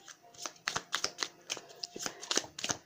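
Oracle cards are shuffled by hand close up, giving a quick, uneven series of soft slaps and riffling flicks that continue for about three seconds without talk.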